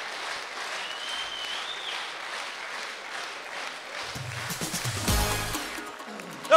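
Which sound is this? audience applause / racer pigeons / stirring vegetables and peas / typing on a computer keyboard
audience applause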